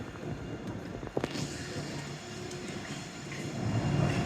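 A tram rolls past on rails in a town street, a steady low rumble and rush with faint clattering and a brief metallic click, fairly distant and continuous without talk.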